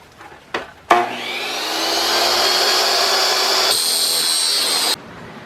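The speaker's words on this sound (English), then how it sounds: "I'm going to cut them with a metal blade." A power saw with a metal blade whines up and cuts through metal parts for a reception desk in one long, loud, steady pass, then stops abruptly; brief clicks before it starts.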